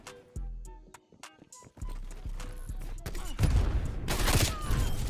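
Rapid bursts of War Machine launcher fire in a Call of Duty match, loud and near, with explosive blasts swelling toward the end amid other game noise.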